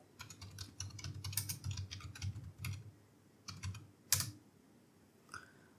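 A web search is typed on a computer keyboard in quick, irregular bursts of close, quiet key clicks, with short pauses and a final firmer keystroke.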